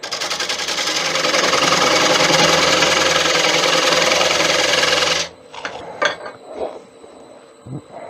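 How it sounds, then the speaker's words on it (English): A power tool deepening a mortise in a 17-inch acacia wood bowl blank, a loud steady buzzing whine for about five seconds that stops abruptly, followed by faint clinks and handling knocks. "I'll deepen that mortise slightly"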